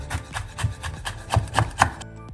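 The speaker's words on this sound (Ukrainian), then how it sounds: "тому коли ми зняли шкірку, трошки її нашинкуємо" Knife chopping pork rind on a board in a home kitchen, a quick uneven series of about ten close, crisp cuts that ends abruptly.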